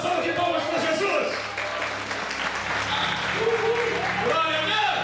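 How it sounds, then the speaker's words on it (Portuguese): Church congregation applauds steadily with dense, sustained clapping, while voices and music-like tones carry underneath throughout. "Dá uma salva de palmas para Jesus."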